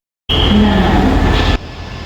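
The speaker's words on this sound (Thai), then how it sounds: "ตอนนี้รถไฟก็มาแล้วนะครับ" A train rumbles into a station in Thailand with a broadband roar and a high whine, its loud noise cutting off abruptly to a quieter hum.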